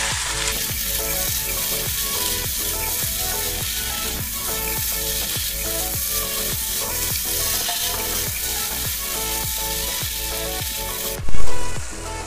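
A spice mixture with amchur powder sizzles loudly in a pan while being stir-fried for dhuska, a steady frying hiss broken by regular scraping strokes of a spoon, ending with a brief louder splash.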